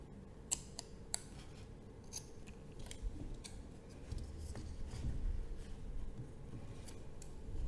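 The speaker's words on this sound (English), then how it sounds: "I'll simply cut the extra yarn off." Scissors snip away leftover yarn from a small crochet keychain chick and eggshell, a few quiet, crisp close-up cuts scattered across a soft, near-silent background.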